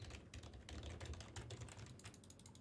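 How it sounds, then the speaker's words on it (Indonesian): Keyboard typing picked up faintly by an Elgato Wave 1 cardioid microphone, a steady, quiet patter of rapid key clicks running throughout with no voice. "Ketikan keyboard atau ketikan mouse masih sedikit masuk"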